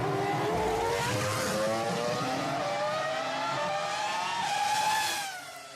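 A Hot Wheels diecast Formula 1 toy car races down a track, giving off a continuous whirring, engine-like roar that sounds like a racing car in a Formula 1 tournament event, sustained and fairly loud before trailing off at the end.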